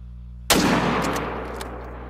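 A hunting rifle fires once in theHunter: Call of the Wild, a sharp, loud crack followed by a long rolling echo that fades slowly, with no talking.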